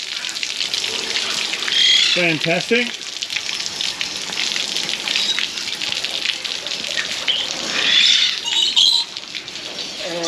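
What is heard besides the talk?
bird watering system filling the drinkers with water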